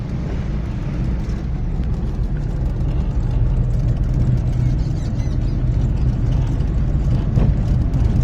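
A car travels along a road under overcast skies, producing a constant low rumble of engine and road noise that fills the interior at steady volume, with faint, barely distinct voices mixed in.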